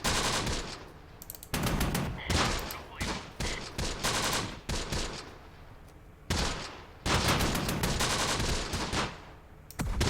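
Dense battle gunfire in the Close Combat war game, at a desert stronghold in Italy: overlapping rifle and machine-gun bursts, nearly continuous and loud, with brief gaps between volleys.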